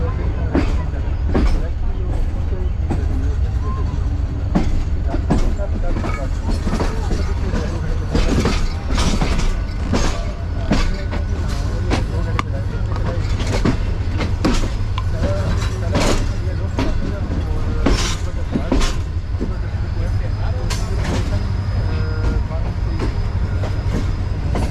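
Continuous clickety-clack of the 41 Up Karakoram Express rolling out of Karachi Cantt station past the loco shed toward Lahore, regular wheel clicks over a deep steady rumble, with occasional voices nearby.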